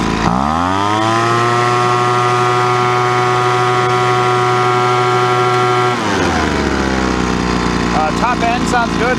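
A Poulan Pro 25cc gas leaf blower, just fitted with a new carburetor, runs loud and close at a high steady whine, then drops abruptly to a lower idle with a faint voice underneath.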